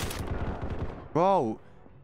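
Gunfire in the battle royale shooter Combat Master: a fast rattle of low, punchy shots through the first second, followed by a loud, sustained harmonic tone, with no talking.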